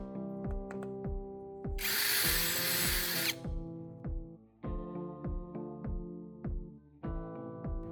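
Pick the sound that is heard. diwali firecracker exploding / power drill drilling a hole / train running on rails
power drill drilling a hole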